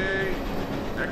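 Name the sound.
train moving on rails, audio drama effect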